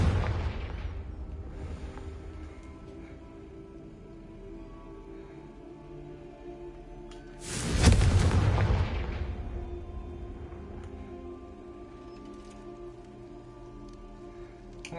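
Confringo fire spell in the game Hogwarts Legacy, a single loud whooshing blast about halfway through that decays slowly over a steady rain-like ambient bed.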